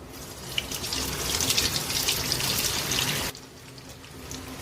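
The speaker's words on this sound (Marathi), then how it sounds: "आता रोल फ्राय करूया." Potato rolls fry in hot oil with a broad, steady hiss and crackle that cuts off abruptly partway, leaving a quiet background.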